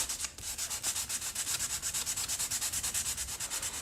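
Wooden guitar picks being sanded by hand, a close, rhythmic scratchy rasp repeating in quick even back-and-forth strokes, about eight per second, with no voices.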